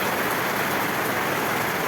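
Steady rain pouring down outdoors during a monsoon downpour, a dense, continuous hiss of drops close by with no pauses and no voices.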